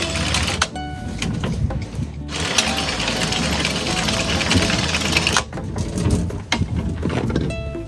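A new anchor windlass on a 37ft sailboat hauls 8mm galvanised anchor chain into the locker, a continuous mechanical whirring and rattling with a sharper, brighter middle stretch, close and steady.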